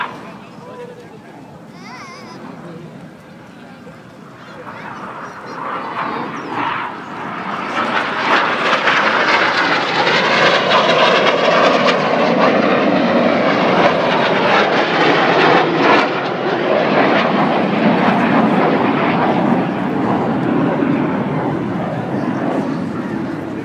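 Red Arrows BAE Hawk jets descend at over 400 mph for double rolls at the Farnborough International Airshow, a swelling jet roar building to a loud sustained pass while a commentator talks over it.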